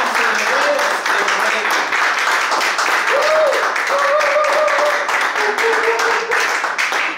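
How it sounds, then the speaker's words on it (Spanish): A church congregation breaks into steady, loud applause during a service, the clapping continuous throughout while voices call out and exclaim over it. "Démosle un fuerte aplauso al Dios de la gloria."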